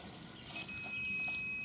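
A digital torque tool emits a steady high electronic beep while a tie rod is tightened, a single sustained tone sounding clearly over a faint background hum with no one talking.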